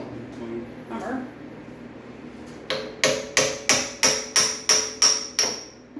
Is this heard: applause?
no